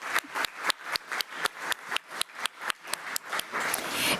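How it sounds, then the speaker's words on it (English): A round of applause at a school board meeting, sharp claps arriving in a steady rhythm of roughly four per second. The clapping is fairly close and moderate in level, then thickens into a denser wash of overlapping hands near the end. "So let's give Melissa Bartolo another round of applause."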